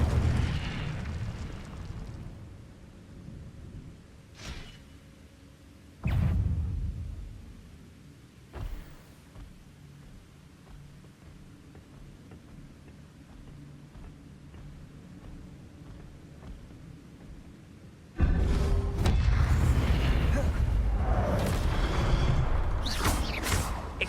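Incendio fire spells explode in the Hogwarts Legacy video game: a few scattered booming bursts early on, then a loud, sustained roaring blast of fiery noise through the final stretch. No talking.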